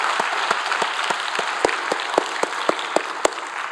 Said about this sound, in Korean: 우리 하나님께 영광의 박수합니다.